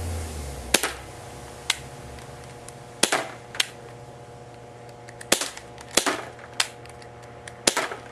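Ruger P345 semi-automatic pistol fired at about 10 feet: sharp, close cracking shots come singly and irregularly spaced, each with a short ringing tail, over a low steady hum.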